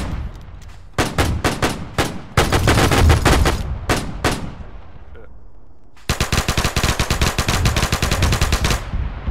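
Machine gun firing tracer rounds in a Battle of Wake Island video game, loud close bursts of rapid shots with brief gaps, then a long sustained burst of steady fire.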